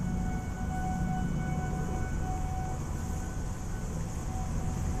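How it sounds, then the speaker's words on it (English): Tornado sirens wail in the distance, a sustained tone rising over a low rumbling background hum, with no talking. "Tornado sirens are going off. It's probably the tests."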